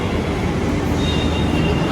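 Delhi Metro train riding along, a continuous loud rumble of wheels and rail noise heard from inside the carriage, steady for the whole short stretch.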